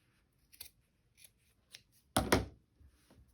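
Scissors snip through fabric in a few short, quiet cuts, ending with one louder, longer double snip near the end, with no talking.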